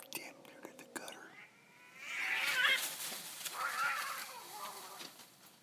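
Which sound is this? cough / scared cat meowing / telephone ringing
scared cat meowing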